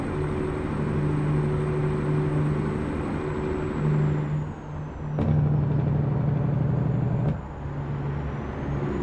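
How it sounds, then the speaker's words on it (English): A modded truck engine in American Truck Simulator sets up a low, steady drone, then drops into a deep, rattling Jake brake roar broken by brief sharp shifts, all loud and close with no voices. "I really like the Jake brake sound of this particular modded engine."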